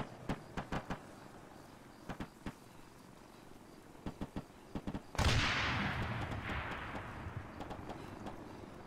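Gunfire and blasts from a Halo: Reach battle: a string of sharp, separate shots spaced through the opening, then a loud sustained roar of explosion or heavy fire that slowly fades out.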